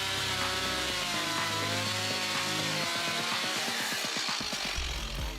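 A Stihl MS 170 chainsaw with a compact 30.1cc engine cuts through wood, its loud, steady buzzing whine shifting pitch as the chain bites in and the revs rise and fall, with no voices.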